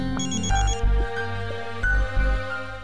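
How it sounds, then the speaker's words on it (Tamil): A phone ringtone chiming a repeating melodic electronic pattern, loud and close, cycling about twice over three seconds with no talk. "நான் இப்பவே வினய்க்கு ஃபோன் பண்றேன்."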